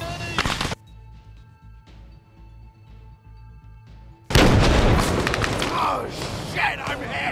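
In the video game Arma Reforger, a rocket fired at a BMP lands with a heavy, loud boom after a quieter stretch of engine hum and brief voices, followed by a rumbling, crackling aftermath.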